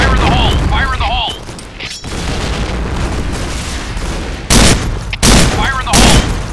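Video game shotgun blasts boom loudly and close, with a sustained burst of rapid firing followed by two separate heavy shots near the end, while a voice calls out over part of the gunfire.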